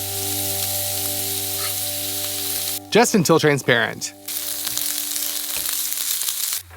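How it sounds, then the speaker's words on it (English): Steady sizzling of onion frying in olive oil runs throughout, with a brief burst of talking in the middle and a low hum underneath. "and fry the onion"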